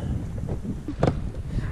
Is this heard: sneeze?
no